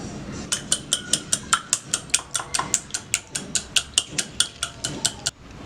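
Two eggs are beaten in a bowl, about twenty quick, evenly spaced clinking strokes in a steady rhythm, close and clear with no talking.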